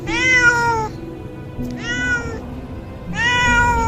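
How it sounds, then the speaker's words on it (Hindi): A black cat meows three times, loud and close, each cry drawn out with brief pauses between them; no other voices. "पर ये तो इस बिल्ली की आवाज थी।"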